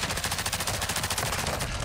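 Dense, continuous automatic gunfire from Call of Duty Modern Warfare II DMZ mode, with rapid overlapping shots at steady loudness throughout.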